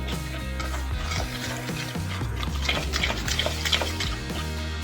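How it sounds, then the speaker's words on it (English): Corn dog muffin batter thinned with milk is stirred in a bowl, giving a steady wet swishing and scraping with light clinks of the utensil against the side, close and continuous without talk. "give it a good mix before you adjust anything"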